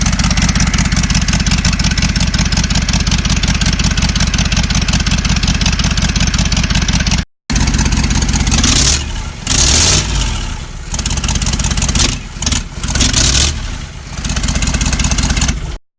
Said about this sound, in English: In case anyone was wondering what an open block Powerstroke sounds like